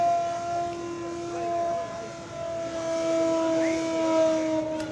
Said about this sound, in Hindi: ये देखिए, सायरन बजता हुआ आप यहाँ पर सुन सकते हैं।